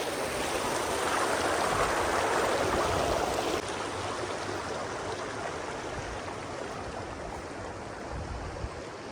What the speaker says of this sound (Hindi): ये सारा ग्लेशियर का पानी है, इस साइड से आ रहा है